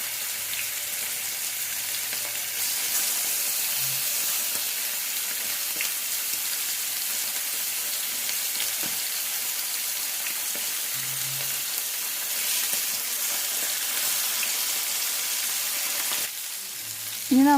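Karimeen, the pearl spot fish, frying in hot oil with a continuous dense sizzle, close and steady throughout, and a brief clatter near the end, with no voices.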